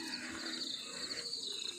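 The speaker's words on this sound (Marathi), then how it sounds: "फक्त हा आवाज आहे ना, हा ऐकत राहावा असं वाटतं मला सारखा. रातकिड्यांचा आवाज." Crickets chirp in a steady, shimmering high-pitched drone on a Konkan morning, continuous and fairly faint throughout, with no voices.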